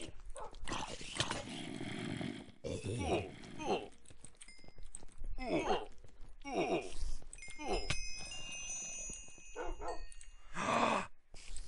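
Dogs barking during a battle against an army in Minecraft with the Hexxit modpack, sharp bursts recurring through the clip amid game sounds and some talk.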